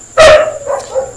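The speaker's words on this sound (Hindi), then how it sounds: "कुत्ते बहुत भौंक रहे हैं," A dog barks once loudly and close, followed by quieter whining yelps, heard alone with no talk in the background.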